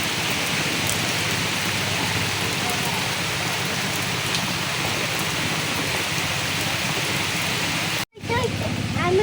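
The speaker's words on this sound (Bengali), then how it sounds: "বৃষ্টি আইসা পড়ছে, এই জন্য আর কি ওইদিকে যাইতে পারলাম না" Heavy rain pours down steadily in a rural village setting, a dense continuous hiss that stays loud and even, broken by a brief dropout near the end.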